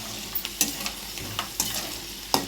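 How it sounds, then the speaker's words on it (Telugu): Peanuts fry in oil until brown, giving a soft continuous sizzle broken by a handful of sharp clicks and scrapes from stirring, close and fairly quiet. "నూనె పోసుకొని కాస్త పల్లీలు బ్రౌన్ కలర్గా వేయించుకోవాలి"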